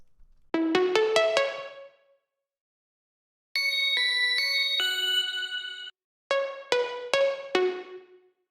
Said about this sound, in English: For the famous bell sound, I just used a preset in Massive called Bell Clarinet.